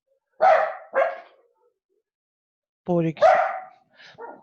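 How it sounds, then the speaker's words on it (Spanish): A dog barks twice in quick succession, fairly close, then a person speaks briefly in a classroom-style lesson setting, with further short barks or sounds trailing at the end. "Anda a ladrar para abajo ya."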